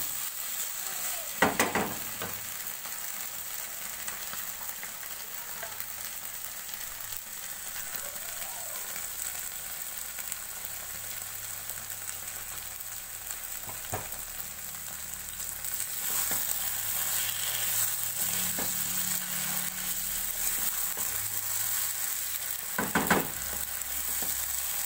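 Mustard oil and ingredients sizzle in a frying pan with coconut, a continuous close frying hiss broken by occasional scrapes and clinks of a spatula stirring.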